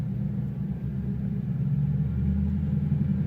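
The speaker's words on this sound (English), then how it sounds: "Give it some gas, check out this RPM." A car engine is given gas while parked, producing a low, steady, close rumble that swells slightly as the revs climb, with no voices.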